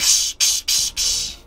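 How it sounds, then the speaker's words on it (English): Pneumatic hiss from SpaceX Starship flaps actuating: four short, bright bursts of hissing air in quick succession, separated by brief gaps, fairly close and alone. "my brain is associating this with, like, a pneumatic noise"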